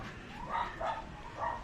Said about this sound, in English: our dog is loose.